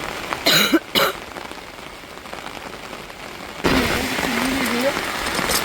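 Steady rain hisses throughout, with two sharp coughs near the start, and the downpour grows noticeably louder partway through.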